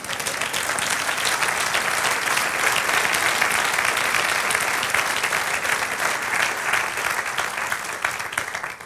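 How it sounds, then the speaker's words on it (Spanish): Sustained applause from a church congregation during a Spanish-language sermon, a dense, steady wash of many hands clapping at even loudness for the whole stretch, with no talk over it. "Dale un aplauso al Señor."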